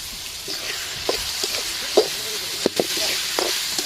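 Onion and tomato sauté in a pan with a soft, steady sizzle broken by light clinks and scrapes of stirring.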